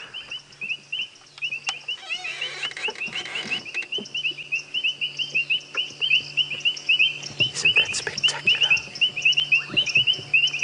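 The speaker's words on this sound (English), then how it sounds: "then we can just listen to the beautiful sounds of these painted reed frogs" Painted reed frogs call with repeated sharp metallic notes at a sunset safari drive, with a few bubbling kassinas popping among them, steady and fairly close, with a person speaking briefly.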